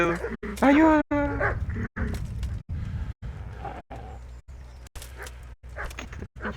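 Dog barking in the video game Kingdom Come: Deliverance, a run of short, sharp barks at a steady rhythm, close and fairly loud, with a voice crying out at the start.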